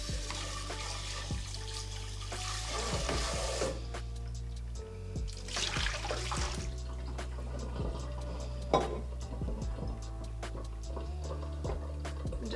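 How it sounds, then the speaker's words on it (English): Running water splashes into a metal pot as it is rinsed clean of berry dye remnants, a soft, uneven trickle with occasional clinks and knocks of the pot, quiet and without speech. "I'm going to just rinse this pot out so that I can use it again for the actual dyeing."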